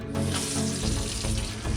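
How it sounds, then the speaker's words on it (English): Hot water from an on-demand water heater tap at an RV park gushes in a loud, steady close-up stream after a brief quiet start, with no talking. "Oh yeah, nice and hot now."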